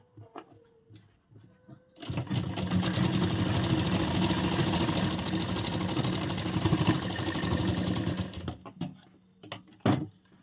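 Sewing machine running a side seam on a princess cut deep neck blouse, a steady whirring stitch run of about six seconds that starts abruptly and stops, with quieter handling noises before and after.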